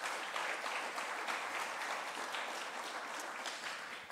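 A seated audience at a formal event claps for the Alpes-Maritimes prefect, a dense sustained round of applause filling the room at even strength throughout.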